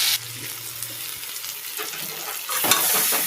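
Turmeric powder is stirred into a hot pan of frying ingredients, giving a steady close sizzle with scraping stirs that grow louder toward the end.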